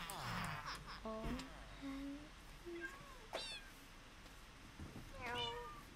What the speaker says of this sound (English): They're the skinless cat.